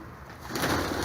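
A caught pigeon gives a soft, close coo, a brief low murmuring call over faint background noise.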